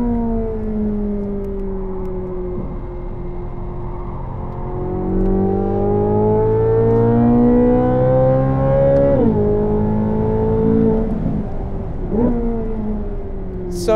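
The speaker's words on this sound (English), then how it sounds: "with the 4S tires, you'll hear it squealing a little bit more for sure." A Corvette Z06 on Michelin Pilot Sport 4S tires at a racing academy track, engine tone rising and falling through gears with a drawn-out tire squeal during cornering, loud and continuous.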